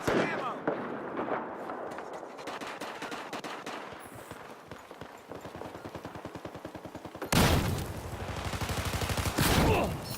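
L85A2 assault rifle firing in Battlefield 4, rapid automatic bursts of sharp cracks in quick even rhythm, with a sparser stretch early on and a louder, denser burst near the end over game ambience.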